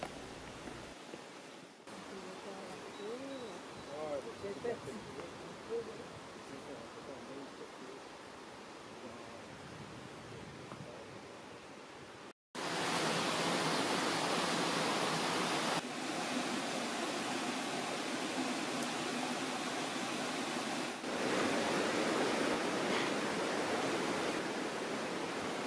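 A waterfall on the trek to Ciudad Perdida in Colombia roars as a steady rushing wash, quieter and more distant at first, then jumping to a loud, close, constant torrent.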